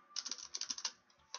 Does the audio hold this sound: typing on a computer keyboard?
yes